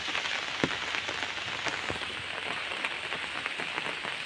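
Steady rain falls outdoors on an empty street on a rainy day, a dense continuous hiss with occasional louder drops and patters close by, no voices.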